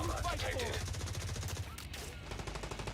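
Rapid, continuous automatic gunshots from Call of Duty Warzone Resurgence rattle steadily throughout, with a voice talking over the shooting near the start.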